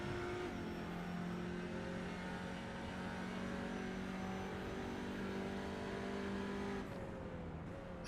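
Audi race cars circle a track during an Audi Challenge race, their engines a steady, loud, sustained drone that holds for several seconds, then eases slightly near the end.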